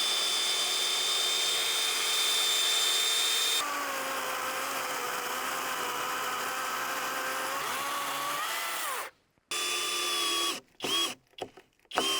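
A power tool shaving down a too-tall section of a log for the walls of a small log cabin on an island: a steady, close, loud buzzing whine for about nine seconds, then cutting out and restarting in short, choppy bursts.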